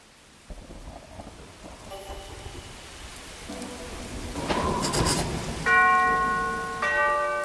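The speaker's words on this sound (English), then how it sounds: "I'd better ring the bell." A mansion bell in the PC game Arkham Horror: Mother's Embrace rings twice near the end, clear bright tones over steady rain and rumbling thunder.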